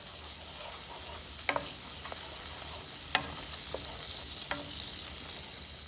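Butter melting and sizzling in a pan during meal prep, a soft steady frying hiss with a few sharp pops and utensil taps, quiet and without talk.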